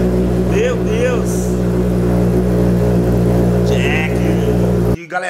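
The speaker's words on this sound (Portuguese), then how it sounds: "Vamos acelerar essa moto aqui" A Honda CB1000 motorcycle engine runs steadily and loud at a sustained revving pitch for about five seconds, then cuts off sharply, with a voice talking briefly over it.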